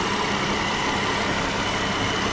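A Jeep Wrangler Unlimited Sahara's 3.6-liter Pentastar V6 idles in a steady, even rumble, close and loud, with no voices over it.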